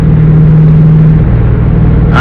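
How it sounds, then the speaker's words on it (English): A big logging truck rolls past on a rural road, its engine giving a steady low, loud rumble that holds throughout, with a slight rise in noise as it nears the end. "Big logging truck."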